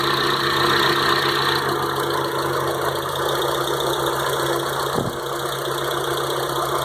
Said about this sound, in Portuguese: Eu vou desligar o sensor de fase aqui, ó, que eu quero mostrar pra vocês qual é a falha que o carro faz com o sensor de fase desligado